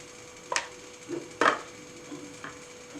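Sharp knife cuts trim the thorny edges off a fresh aloe vera leaf on a board: two crisp chops, a heavier one, and a few softer taps spaced irregularly, close and fairly quiet.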